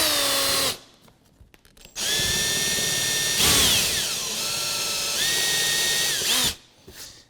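Power drill boring a countersink into wood for a plug while building a kitchen island, a loud close whine that runs, stops briefly, then spins up again and holds a steady pitch before cutting off.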